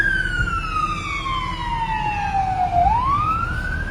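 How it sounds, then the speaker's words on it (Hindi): Fire engine siren wailing loudly and close by, one long tone gliding steadily downward and then sweeping back up, over a steady rumble of road traffic. "तो ये सब आग बुझाने वाले दमकल है।"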